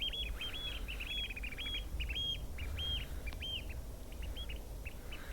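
A spring songbird in Norway calls outdoors in a repeated series of bright, clipped chirps, fairly faint and distant over a low ambient rumble.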